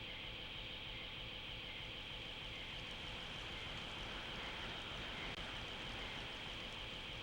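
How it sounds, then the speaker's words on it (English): A waterfall in the video game Dark Cloud 2 produces a constant, even hiss of rushing water, steady and unbroken for several seconds with no talking over it. "Oh, nice. There's a waterfall."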